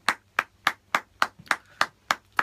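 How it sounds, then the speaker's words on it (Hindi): A church congregation claps in rhythm, nine sharp, evenly spaced claps about every quarter second, close and fairly loud, with brief silence between each beat and no talking. "जोरदार ताली बजाएंगे,"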